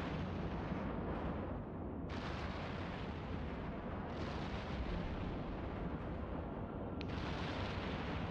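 Ship explosions in EVE Online roar as a dense, continuous wall of rumbling blasts, loud and sustained with brief dips where the bursts thin out, no voices.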